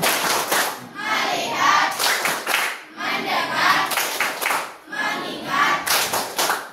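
A classroom group claps the rhythmic 'tepuk fokus' pattern in quick bursts, repeated three times with short pauses between, loud and close.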